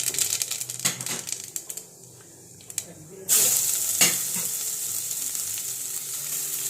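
Mustard seeds splutter and crackle in hot oil in a pan for a Kerala cabbage thoran, a few sharp pops at first giving way to a loud, continuous sizzle.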